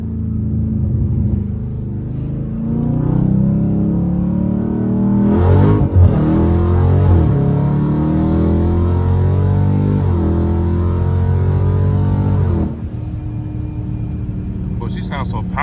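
A Dodge Scat Pack with traction control off makes a first gear pull on a cold day, its exhaust roaring loud and close as the revs rise repeatedly before easing off, with voices talking inside the cabin.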